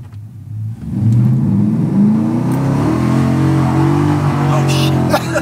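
A 7.3L Godzilla Ford F-250 Super Duty on a 200 nitrous shot roars loudly up through its revs in 2-wheel drive, breaking into a burnout, with a voice faintly heard over the engine.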